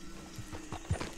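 Horse hooves clip-clop in the Red Dead Redemption 2 video game, a few soft, uneven thuds at moderate distance, fairly quiet over faint ambient background.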